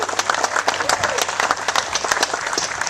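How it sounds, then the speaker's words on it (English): A crowd at a charity golf tournament event breaks into lively applause, brisk uneven clapping from many hands close by, with voices mixed in beneath the clapping. "So let's give her a round of applause."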